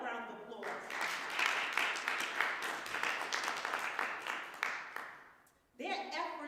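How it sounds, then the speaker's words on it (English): Audience applause at an MLK Day celebration, moderately loud clapping sustained for several seconds between bits of speech at the start and end. "Let's give them a round of applause."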